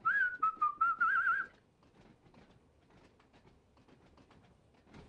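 Someone whistles a short wavering tune in a train-driving simulation aboard a Class 483 train on the Isle of Wight, several quick phrases up front, then only a faint low cab rumble remains.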